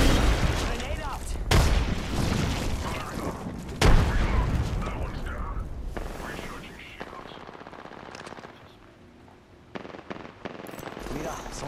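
Grenade blasts and gunfire in the Apex Legends video game, loud bursts and booms clustered in the first four seconds, then quieter scattered shots with voices talking over the action.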